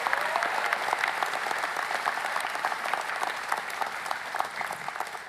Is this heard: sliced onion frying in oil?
no